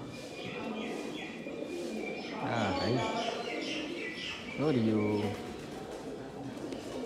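Pigeons nesting in the old Uparkot Fort in Junagadh coo in two soft throaty phrases, echoing faintly among the stonework while people talk nearby.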